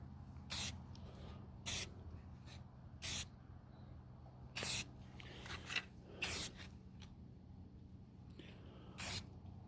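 Rattle can of primer sprayed onto a model SD40-2 locomotive part in about seven short, sharp hissing bursts spaced a second or so apart, close and alone against a quiet background.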